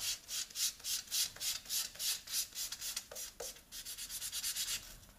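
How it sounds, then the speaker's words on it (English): Rhythmic rubbing strokes of sandpaper on the painted frame of an Aprilia RSV 1000 Factory motorcycle, sanding through paint to primer, close up, repeating back and forth in a steady pattern with brief pauses. "It is paint and I'm sanding now"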